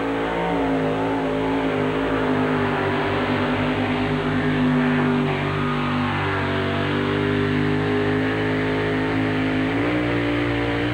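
A truck-pulling vehicle's engine roars loudly and continuously with a hanging throttle at a 1989 pulling event, a dense unbroken drone that shifts pitch slightly near the end, with no talk.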